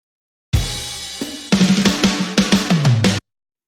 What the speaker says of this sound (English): The pack is literally called Really Good Drum Fills